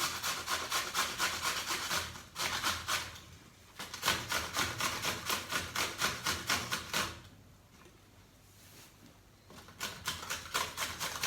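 Cucumber being grated on a blunt grater for tzatziki: repeated rhythmic rasping strokes in quick bursts, close and fairly loud, with a few pauses between runs of scraping.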